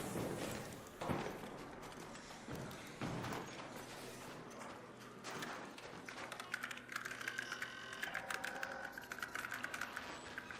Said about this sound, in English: I hear you typing. You hear me typing.